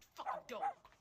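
A human voice imitates a guard dog barking, giving two or three short, sharp bark-like bursts close to the mic.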